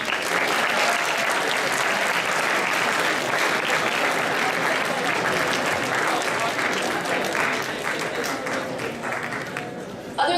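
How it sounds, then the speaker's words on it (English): An audience at a university honors program kick-off applauds. Dense, sustained clapping from a crowd fills the whole stretch and fades slightly near the end. "Now clap your hands."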